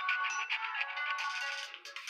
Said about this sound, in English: The phone would be ringing.